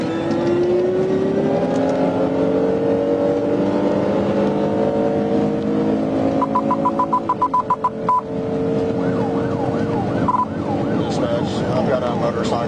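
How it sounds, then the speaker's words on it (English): A motorcycle fleeing in a police chase revs hard and accelerates, its rising engine whine climbing steadily while a siren and radio beeps sound nearby, loud and continuous. "I've got a motorcycle taking off on me."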